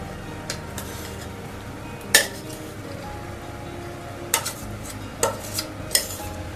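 Cooled cabbage and rice get stirred into minced meat for lazy cabbage rolls, giving soft mixing noises with a few sharp clinks of utensil against the bowl at intervals; no one speaks.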